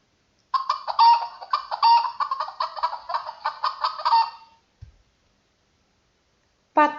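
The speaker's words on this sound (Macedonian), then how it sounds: "Да видиме како се јавува кокошката." A hen clucks and cackles in a rapid, fairly loud run of calls for about four seconds, close by, followed by silence and a brief thump, then another call starting at the very end.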